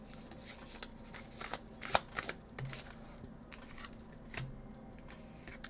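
A tarot deck is shuffled by hand in a quiet room, giving soft riffling flutters and card slaps in uneven bursts, one sharper clack standing out, close and gentle with no speech.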